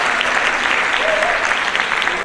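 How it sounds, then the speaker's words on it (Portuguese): Applause from an audience at a Brazilian creative economy event, a loud, dense burst of clapping filling the room, with a faint voice briefly underneath before it cuts off at the end. "uma salva de palmas e viva a economia criativa"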